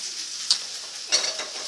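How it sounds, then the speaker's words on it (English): Chicken pieces fry in a pan for chop suey, giving a soft steady sizzle with a couple of brief sharper crackles or utensil clicks. "Chicken is just frying."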